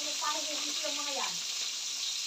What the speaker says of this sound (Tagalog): Ih, nagpiprito.